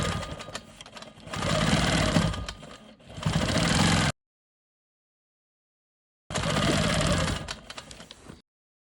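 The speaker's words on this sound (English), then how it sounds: "So I'm going to go ahead and quilt the straight lines here" Sewing machine stitching straight quilting lines on a rolling stone quilt block, a steady close mechanical whir in two runs, a brief pause, then a third run after a few seconds of silence.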